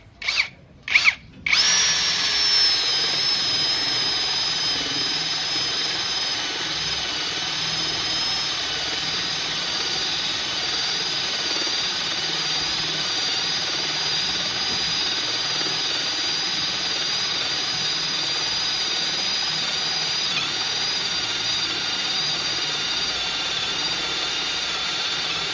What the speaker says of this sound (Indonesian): Mata bor kipas ukuran 22 mili langsung di speed 2 aja.